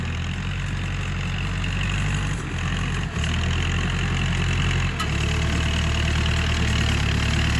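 A Kubota L4708 tractor engine runs continuously while levelling a rice field. It is a steady, loud mid-to-low engine drone with a brief dip in the middle and no voices.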